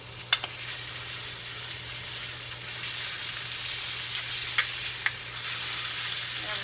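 Tomahawk pork chop sizzling and frying steadily in a pan as it is flipped, a constant close hiss with a few sharp clicks of tools against the pan.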